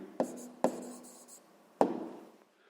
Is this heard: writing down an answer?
yes